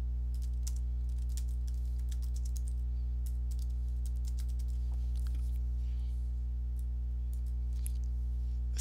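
Fingers tap out MATLAB code on a computer keyboard in quick irregular bursts of crisp clicks, close to the mic over a constant low electrical mains hum, with a short pause midway.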